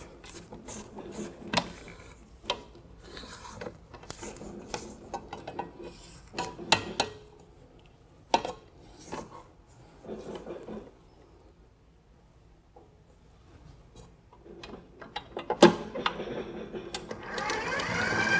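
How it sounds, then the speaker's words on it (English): Restaurant kitchen sounds as a spatula scrapes a mixing bowl after the stand mixer stops: faint, scattered clinks and scrapes against the bowl amid quiet stretches, ending in a soft rising clatter. "So I'm going to stop it, lower my bowl, and scrape."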